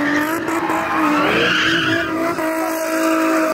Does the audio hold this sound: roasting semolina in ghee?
no